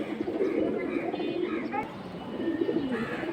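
Flyer pigeons at a pigeon market coo repeatedly in a low, throaty rhythm, close and steady, with bird chatter and crowd noise mixed underneath.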